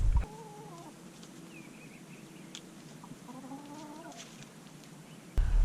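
Chickens cluck and murmur softly nearby as they eat garden clippings, with a few higher calls rising over a low rustling background; no talking.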